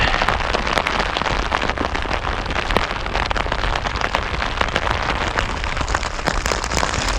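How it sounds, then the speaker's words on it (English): Heavy rain pours steadily and loudly, a dense hiss of drops pattering on surfaces nearby without pause. "Dude, this rain is just coming down. It's relentless."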